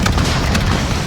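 A missile strike explosion in Call of Duty: Modern Warfare (2019) is a dense, steady roar of low rumble with bright bursts layered over it. It stays loud for the whole second and there is no break in it.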